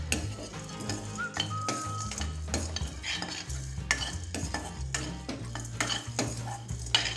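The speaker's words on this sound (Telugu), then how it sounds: "ఈ మిగిలిన వెల్లుల్లి కూడా ఇందులో వేసేసి ఒక్కసారి డ్రై రోస్ట్ చేసుకుందాం" Cumin and garlic dry roasting in a pressure cooker, stirred throughout with repeated scraping and clinking of a utensil against the metal, close and busy, with a soft crackle underneath and no talking.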